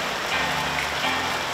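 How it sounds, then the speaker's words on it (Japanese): Heavy rain and wind sweep over an outdoor press event in Taiwan during a sudden downpour, making a dense, steady roar of hiss and rumble that stays loud throughout with no voices. "今天风雨有一点大"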